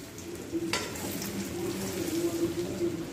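Gram flour (besan) roasting gently in hot oil in a pan for bhindi, giving a steady low sizzle with soft scraping stirs and one brief clink, fairly close and with no talk.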